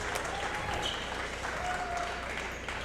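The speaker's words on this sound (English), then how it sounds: "Applause for Jesse as he comes out." A crowd applauds steadily with dense, sustained clapping, faint voices mixed in underneath, at a high school boys basketball game.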